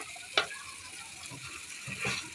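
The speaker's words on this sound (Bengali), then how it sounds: "এখন আমি তেলে ভেজে নেব। একটু উল্টায় দিয়ে ভেজে নেব।" Mashed olives frying in oil with salt and bay leaves for a Burmese-style pickle give a quiet, steady sizzle, with a sharp utensil tap early on and a soft stirring swell near the end.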